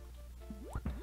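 Retro Super Mario World rom hack water sounds play in quick succession: soft squishy drips and a pair of rising, chirpy electronic splash tones, faint and close together.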